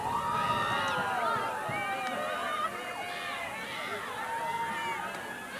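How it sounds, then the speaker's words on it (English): Crowd of Samford Bulldogs fans at a softball game against Alabama makes a steady hubbub of shouting and chatter, with some cheering rising and falling at moderate volume throughout. "If you could hear the crowd noise, Bulldog fans wanted to strike 3."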